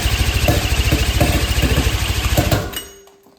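A 130-horsepower engine on a tiny ATV revving loudly and close, a rapid pulsing rumble that holds steady for a few seconds and then cuts out and fades away.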